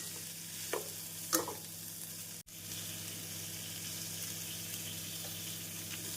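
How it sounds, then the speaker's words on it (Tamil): Cauliflower florets sautéing in a pan with ginger garlic paste and chili powder make a steady low sizzle, with a couple of brief stirring scrapes early on and one short dropout partway through. "மிளகாய் பொடி சேர்த்து காலிஃப்ளவருடன் நன்றாக வதக்க வேண்டும்."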